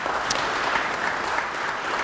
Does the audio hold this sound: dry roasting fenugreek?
no